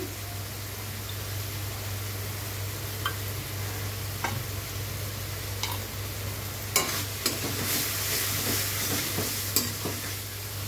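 Tomato, green chili and turmeric powder fry in a pan for a Bengali tengra fish curry, giving a continuous close sizzle broken by occasional stirring scrapes and sharp utensil clinks against the pan.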